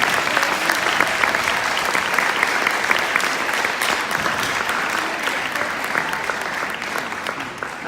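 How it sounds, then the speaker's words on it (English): Sustained, dense applause from a school audience honoring a teacher, loud and steady throughout with no talk over it. "give just a huge round of applause and a thank you to Mr."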